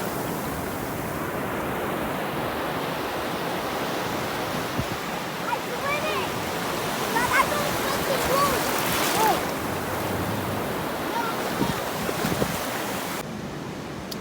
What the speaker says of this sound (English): So the wave is coming.